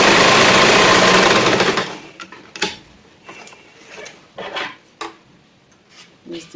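A sewing machine stitches a pencil skirt seam in a loud, steady burst for about two seconds, then gives way to quiet handling clicks and rustles of fabric and parts.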